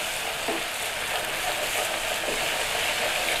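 Milk is stirred into melted salted butter in a pan, giving a steady, even sizzle and bubbling hiss that runs unbroken and fairly close for a few seconds, with no talking.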